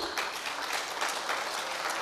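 Steady crowd applause at an official ceremony for the 2020 JID celebration, honouring two major business operators; dense, continuous clapping from a hall audience at even loudness, with no talk over it.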